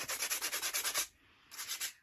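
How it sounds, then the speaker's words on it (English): Sandpaper rasps in quick, steady back-and-forth strokes over a vintage wicker birdcage, taking off loose paint; after a brief pause the scraping starts again, close and alone. "I'm not sanding it all off."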